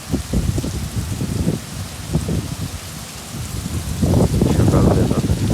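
Rain falls on a cold, rainy morning, with small bits of snow coming down too. A dense, close patter runs throughout and grows heavier near the end.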